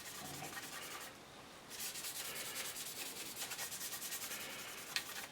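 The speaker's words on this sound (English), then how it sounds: "You can see the more I polish, it's still removing oil paint from the surface" Steady rubbing and polishing strokes on the surface of a Seafire XV scale model, lifting off oil paint wash, with close, continuous scratchy friction, a short lull partway through, and no talking.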